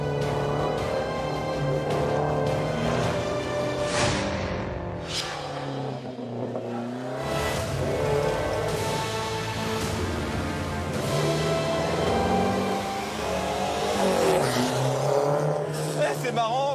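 Golf GTI or Renault R5 Alpine Turbo on a race course, engine droning loudly and shifting pitch through revs and gear changes, with brief sharp bursts and wheel noise; continuous, close, a voice talking over it at times.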